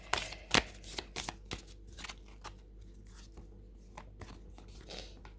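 Tarot cards being shuffled by hand, a series of quick crisp riffles and snaps, close and fairly quiet, with no talking.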